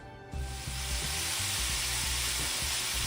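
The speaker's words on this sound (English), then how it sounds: "I'm gonna go ahead and add my steak in to the skillet" Steak sizzles in a hot skillet, starting with a sudden loud hiss as the meat hits the pan and settling into a steady, close-up frying crackle with no voices.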